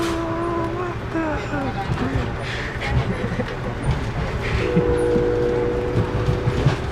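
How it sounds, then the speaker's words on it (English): An Amtrak train horn on the ride to Niagara Falls sounds in steady tonal blasts, heard from on board over the rumble and clatter of the moving train, with voices faintly underneath. "the horn sounds a lot better tuned from here."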